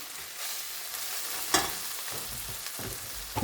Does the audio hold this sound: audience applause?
no